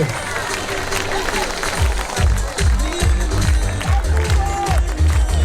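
A boxing event crowd applauds the two fighters with dense, loud, sustained clapping and cheering. An announcer's amplified voice runs over the clapping.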